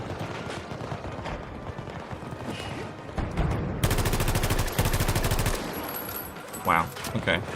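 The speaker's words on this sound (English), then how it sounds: "Try without a suppressor then" Unsuppressed automatic gunfire in a first-person shooter video game, a loud rapid burst of shots with heavy recoil in the middle of the clip, preceded by busier mixed game noise and followed by a few sharper bangs.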